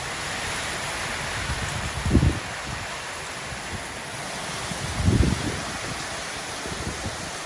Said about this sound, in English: It's coming down. You can't see it. That's hail.